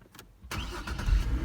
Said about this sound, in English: if I were to start the car like immediately after it's been running